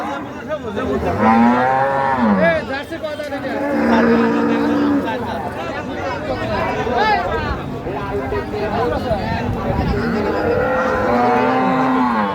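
A Friesian dairy cow, six-toothed, moos loudly several times at a busy cattle market, with long drawn-out calls over constant crowd chatter and nearby talk.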